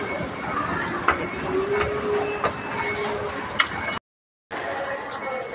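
An LRT train in Singapore rumbles steadily at a station, with clicks and clacks over a continuous mechanical drone and a brief dropout near the end.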